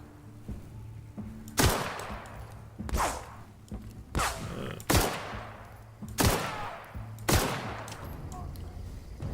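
Gunfire from a weapon in The Outer Worlds: Spacer's Choice Edition, with about six loud, sharp shots in uneven bursts over a low game ambience, each followed by a brief decaying tail.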